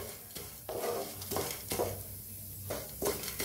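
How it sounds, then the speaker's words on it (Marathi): Dal lentils roast in oil in a pan with a steady soft sizzle, while a spoon scrapes and stirs them in several rhythmic strokes close up. "मस्त असं भाजून घ्यायची डाळ।"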